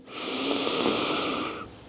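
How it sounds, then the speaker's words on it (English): A long, deep inhale through the nose during a guided breathing exercise, a steady airy hiss lasting nearly two seconds, close and fairly loud, with no talking over it. "Big breath in through your nose"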